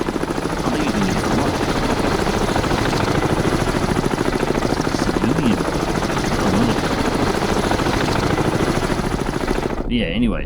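A helicopter in the submarine video game Cold Waters, a loud steady rotor chop with a continuous whine, droning throughout and cutting out abruptly at the end.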